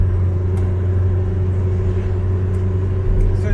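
An Austin Allegro, freshly restored, drives along with a steady low engine drone and road rumble heard from inside the cabin, loud and continuous without talk.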